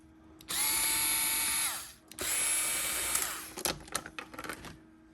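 A power drill or screwdriver backs out screws from the front of a 3D printer case, two sustained whirring runs close by, then short bursts and clicks as the tool stops.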